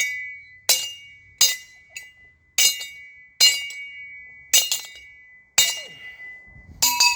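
An inner tie rod tool stuck to a wrench is worked loose with a clamp, giving about seven sharp, ringing metallic clinks spaced roughly a second apart, each decaying quickly into near silence.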